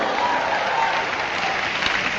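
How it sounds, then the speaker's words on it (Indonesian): Steady applause from a church congregation at a Pentecost leadership training service, a dense continuous wash of clapping filling the room with faint crowd noise beneath. "Bersorak-sorai, tepuk tangan dulu."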